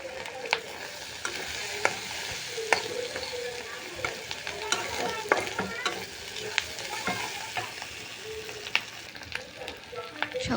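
Ingredients for egg pasta frying in a pan while being stirred, a continuous sizzle broken by scraping clicks and knocks of the spoon, close and steady with no talk.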